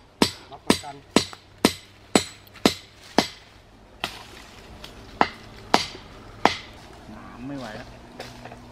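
Sharp metallic hammer blows ring out as pegs are driven into a tree, about a dozen strikes at a steady pace, close by, with brief pauses and faint voices late on.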